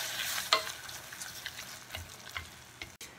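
Quiet sizzling and stirring in a pan, with a few soft scraping clicks and bubbling as squid is mixed through a simmering sauce with mirin.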